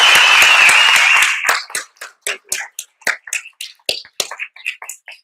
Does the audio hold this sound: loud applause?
yes